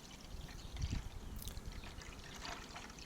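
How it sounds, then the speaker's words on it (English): Sugar water trickles from a container into the feeder of a nucleus beehive, a faint, thin, continuous pouring with small splashy bursts and no voices. "when we pour the sugar water in, it runs underneath and the bees can feed it."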